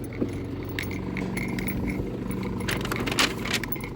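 Car keys jangle and clink repeatedly in bright metallic bursts, close by, beside a BMW 5 Series G30 520d, over a steady low engine-like hum.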